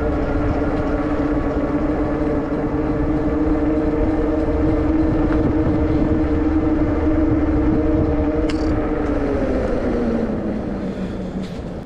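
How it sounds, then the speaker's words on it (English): A Himiway Cobra electric fat bike rides at full PAS5 pedal assist, giving a steady loud drone of motor whine and wind rush that shifts pitch slightly near the end, with no talking. "here we are on the PAS5 test of the Himiway Cobra. Let's see how the bike gets on"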